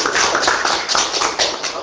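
Applause from an audience at a public meeting in Lublin, a dense patter of many hands clapping close and fairly loud, with faint voices mixed in beneath.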